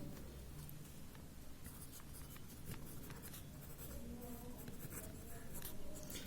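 A pen scratches across paper in continuous close strokes with small pauses between words, quiet and steady, with no one talking.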